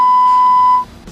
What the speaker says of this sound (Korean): 삐 소리 후 소리샘으로 연결되오며 통화료가 부과됩니다.